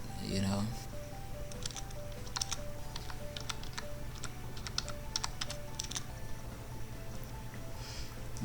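Typing on a computer keyboard while editing in Premiere Pro: a quick, even patter of soft key clicks over a low steady hum, picking up just after a brief voice at the start.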